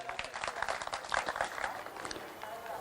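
Applause from the audience at an Urdu mushaira poetry gathering in Malad, a fairly faint, uneven patter of many hands clapping across the whole stretch.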